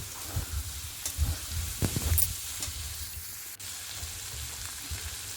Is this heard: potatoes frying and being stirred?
yes